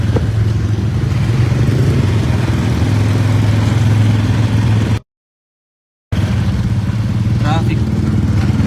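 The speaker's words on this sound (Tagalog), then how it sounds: "Traffic pa." Street traffic with motorcycles and cars rumbles loudly and continuously nearby, engines droning under a voice, broken by a brief moment of silence before the traffic noise resumes.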